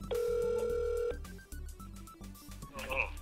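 A telephone rings with a steady electronic tone during a live football talk broadcast, followed by clicks and muffled talk as the call is picked up.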